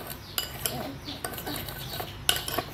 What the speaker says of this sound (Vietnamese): mình sẽ quậy cái phần nước sốt này lên cho nó tan ra cái phần đường ra luôn